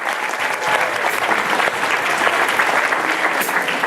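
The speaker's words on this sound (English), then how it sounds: "we should give them a round of applause" A school auditorium audience at a spelling bee breaks into a dense, loud round of applause, steady clapping from many hands close by, sustained for the whole stretch.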